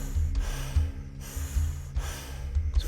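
Slow, deep breaths drawn in during a guided breathwork exercise, three long airy inhalations with a soft low rumble, close and steady with brief pauses between.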